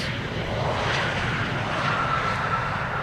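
Steady broadband roar of a KLM airliner arriving at Amsterdam Schiphol Airport, a continuous engine rumble holding at a near, loud level throughout with no talk over it.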